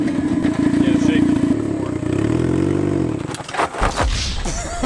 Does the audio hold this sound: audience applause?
no